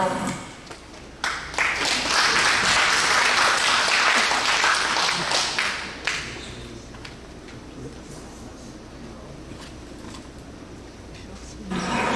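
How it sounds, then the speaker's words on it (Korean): A congregation at an inauguration service for a church general assembly president breaks into applause, loud sustained clapping that swells for several seconds then fades under quieter murmuring and ambient noise. "축하의 박수를 보냅니다"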